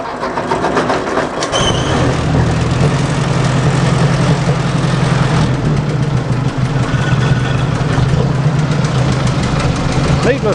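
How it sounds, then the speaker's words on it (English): An old Ford 600 tractor engine turns over and catches loudly, then settles into a steady, throbbing idle with a deep, rough rumble throughout. "Needless to say, the tractor is running, and it wasn't running at all before."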